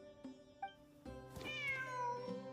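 A cat meows in the Genshin Impact video game, one clear mewing call rising over a steady hum of background game music, alone with no talk.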